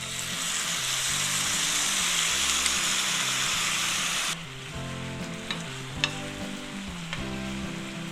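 Tofu crisps in a small amount of oil in a pan, a dense close sizzle that drops abruptly to a quieter fry halfway through, with a few sharp clinks and steady background music.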